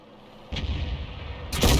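A 105 leFH18B2 howitzer firing in a tank combat game, two heavy booming shots, the first after a quiet lead-in and the second about a second later, each with a rumbling tail, loud and alone.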